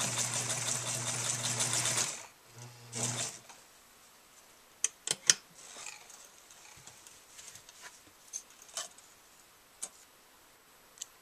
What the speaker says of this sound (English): align the open edges of the bag and sew it shut on the sewing machine